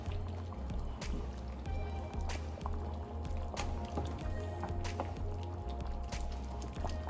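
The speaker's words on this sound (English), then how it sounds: "Give it that stir." Jamaican chicken soup is stirred in a pot, soft liquid sloshing and dripping with periodic spoon knocks against the side, quiet and close, no talking.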